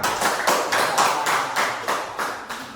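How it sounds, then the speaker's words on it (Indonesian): Rhythmic group clapping in a classroom lesson, a series of evenly spaced, moderately loud claps in unison with no talking. "Tepuk tangan untuk kita semua."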